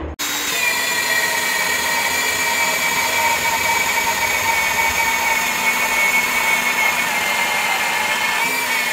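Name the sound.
drilling suspension holes in a Peterbilt truck frame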